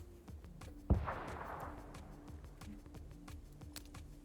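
A single sharp gunshot rings out in the battle royale game PUBG, followed by a decaying tail, over quiet rhythmic in-game background sounds with no talking.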